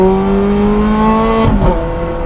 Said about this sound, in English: You can't not just work your way up the rev range with this gearbox and that engine.